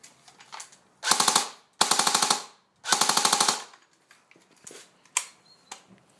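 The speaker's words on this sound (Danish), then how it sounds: "Og så er der fuld automatisk." Airsoft AK rifle fires on full automatic in three loud, rapid bursts of closely spaced shots, with quiet handling clicks between and after them.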